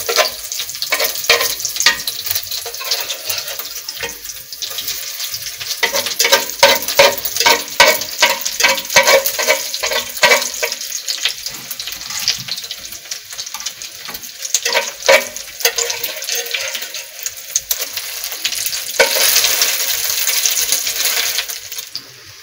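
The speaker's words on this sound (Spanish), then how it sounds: "Yo voy a bañar con un poco de aceite caliente para que no se deshaga." Charales fritters fry in hot oil with a steady, loud sizzle and crackle that continues for a long stretch, with spatters and bubbling close by and nobody talking.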